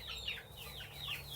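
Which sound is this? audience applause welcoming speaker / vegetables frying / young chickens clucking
young chickens clucking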